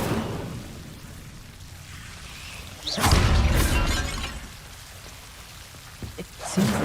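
Incendio fire spell cast in Hogwarts Legacy, bursting into a loud, broadband whoosh of crackling flame that swells, holds for about a second, then fades into a low ambient hum with small pops afterward.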